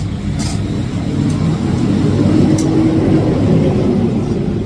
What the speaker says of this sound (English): Rest area, there's trucks running out here